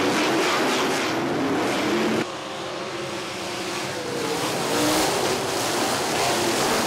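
Sprint cars of the Lucas Oil American Sprint Car Series roar off at the green flag start at Salina Speedway, a loud, dense wall of engine noise with a brief dip before the pack surges on again.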